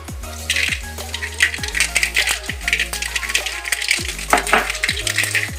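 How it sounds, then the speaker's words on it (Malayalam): Mustard seeds crackling and popping in hot oil in a pan while making mango pickle, a dense run of sharp close pops and sizzles with occasional metallic clinks. "ഇതിലേക്ക് നമ്മൾ കടുകിടാം."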